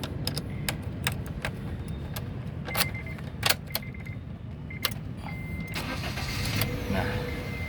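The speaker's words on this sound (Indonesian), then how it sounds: "sekarang kita nyalakan dulu mobilnya" Honda Brio Satya 1.2 E manual 2019 hatchback starting up, a steady idle hum with keys jangling and clicks and ticks throughout, close and moderately loud.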